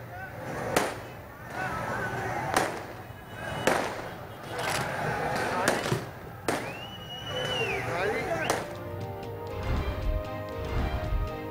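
Sharp bursts and cracks of fireworks at a political election celebration go off at irregular intervals, one whistling upward, amid crowd noise and voices talking over the bangs.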